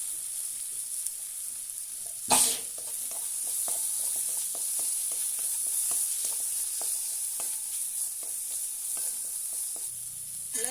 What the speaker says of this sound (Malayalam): കറിവേപ്പിലയും കൂടെ ചേർത്ത് കൊടുക്കാം